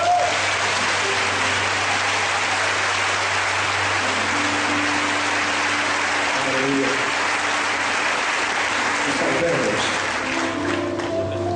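A church congregation applauds in a hall, a continuous hiss of many hands clapping with a low steady hum and faint voices and tones emerging underneath.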